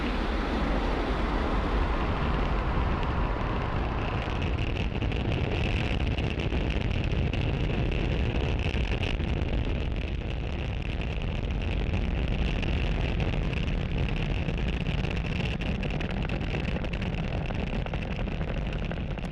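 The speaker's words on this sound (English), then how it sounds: "That incredible view means that Falcon 9 has successfully lifted off from pad 40" A SpaceX Falcon 9 rocket lifts off from pad 40 with a continuous, dense rumbling roar. The sound stays loud and steady and rolls like heavy wind, with no voices over it.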